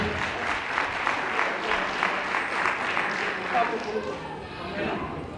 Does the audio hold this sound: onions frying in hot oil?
no